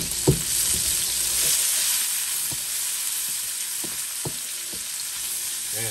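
Onions and garlic frying in vegetable oil, a loud continuous sizzle broken by occasional clicks and scrapes of a utensil stirring in the pan.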